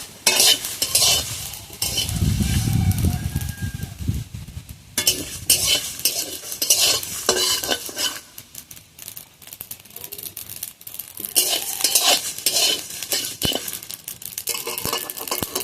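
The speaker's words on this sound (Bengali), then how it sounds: "বাদ বাকি মশলাগুলো দিয়ে দিচ্ছি দিয়ে একটু নাড়িয়ে দেবো বেশি ভাজবো না" Spices for raw mango pickle are stirred in a pan, with close, irregular scraping and clattering of a utensil against metal over a light sizzle, in uneven bursts.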